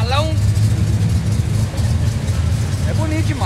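A classic car idles at an antique car meet, heard close to the exhaust: a steady, low, throbbing rumble that holds even throughout, while someone talks over the start and the end.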